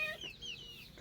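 A chicken on a Konkan village farm gives a few soft, close clucks with short chirpy notes over a quiet background, with no talking.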